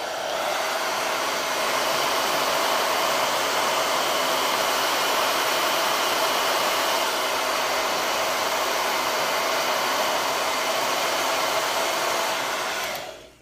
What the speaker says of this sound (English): get your hairdryer out